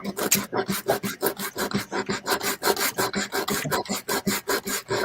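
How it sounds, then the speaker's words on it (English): Steady back-and-forth rasping of sandpaper on wood, brisk and close, repeating in a quick even rhythm. "Oh, I'm using sandpaper."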